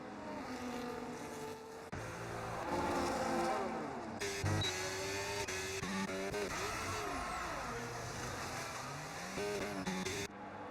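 A race car in a racing video game pulls out of pit lane, its engine whining and rising through gear changes, with other cars droning nearby at a moderate level and no voices.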